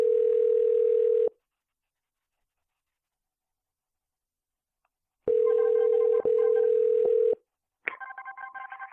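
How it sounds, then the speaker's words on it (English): A VoIP phone call rings with a steady tone in two bursts separated by silence, the second burst crackling and breaking up from dropped packets, followed by choppy garbled tones. "As the phone was ringing, we also had some kind of dropped packets there."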